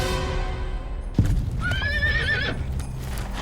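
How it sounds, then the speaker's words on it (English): A horse gives a loud, wavering neigh after a sharp hoof thump, close by, with faint ambient noise and no talk. "Brownie's horse suddenly reared and crashed down, crushing his foot."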